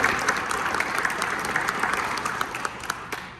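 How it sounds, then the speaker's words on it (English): Applause for Harold and Judy at a college library ribbon cutting, a steady wash of clapping from a crowd that holds through the whole stretch with a few sharper individual claps standing out. "please, a round of applause again for Harold and Judy for being here"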